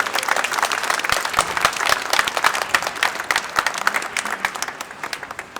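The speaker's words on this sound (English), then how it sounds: "Let's give her applause for all this volunteering," A dense, continuous burst of clapping rises from a crowd at a Bring Them Home rally in Raleigh, North Carolina, loud and close with no break.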